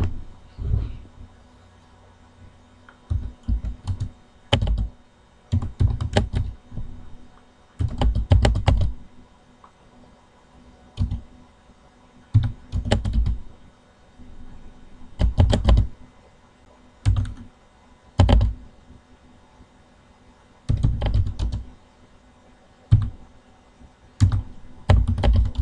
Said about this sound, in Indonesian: Ini saya ketik dulu perintahnya,